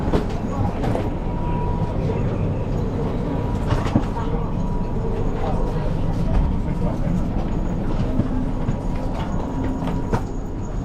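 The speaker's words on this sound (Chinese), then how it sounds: "火车来了，这一趟搭的是奥地利的 Railjet 火车" An Austrian Railjet train pulls into the station, a loud steady rumble with faint rhythmic clatter and occasional clicks lasting throughout.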